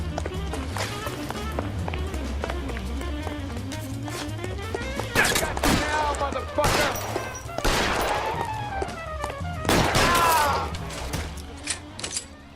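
Pistol shots ring out in the L.A. Noire video game, a few sharp cracks spaced irregularly over a busy game soundscape with footsteps and talk.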